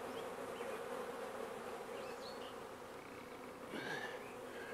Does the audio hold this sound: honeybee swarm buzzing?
yes